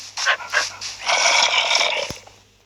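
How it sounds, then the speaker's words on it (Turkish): A dog barks and yips in a few quick bursts up close at home, followed by a longer, noisier stretch of rough vocalizing that fades at the end. "Aa öbür köpeğim geldi."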